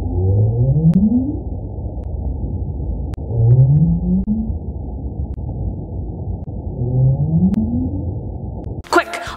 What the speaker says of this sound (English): This sound is coming from the North Atlantic right whale